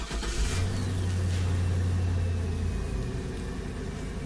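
A car engine starts up and settles into a steady, fairly loud running hum with a brief low rise near the start, with no voices heard.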